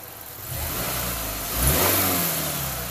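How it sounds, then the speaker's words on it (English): A 2000 Honda Accord with a misfire and rich-running condition idles, then its engine revs up once, swelling louder before settling back, close up and with no talking. "If I rev that up,"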